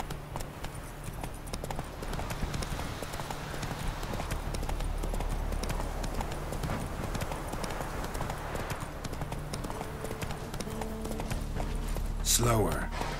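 Horse hooves clip-clop steadily in The Witcher 3, a continuous rhythmic trot heard under game ambience and background noise, with a sharp brief sound near the end.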